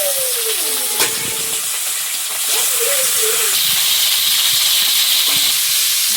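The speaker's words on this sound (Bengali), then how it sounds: "মাছটা ভালো করে ছাঁকা তেলে ভালো করে ভাজতে হবে" Snakehead (shol) fish deep-frying in plenty of hot oil, a loud continuous sizzling hiss up close, with a voice and faint background sounds over it.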